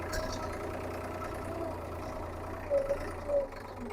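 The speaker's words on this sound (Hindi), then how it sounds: "चढ़ाई आ गई साथ के साथ, तो काफी ज्यादा जो है ना लोड महसूस कर रहा है ट्रैक्टर" A tractor engine labours under load while climbing uphill, giving a steady, rumbling drone with a couple of brief louder surges near the end.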